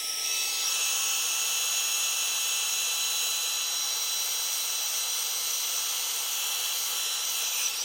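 A heat tool sets embossing powder over a freshly stamped image, giving a steady, loud blowing hiss that runs unbroken from start to finish with no talking.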